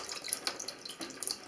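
Water trickling and dripping from an unscrewed sink trap into a basin below, a faint, close, irregular pattering that runs steadily.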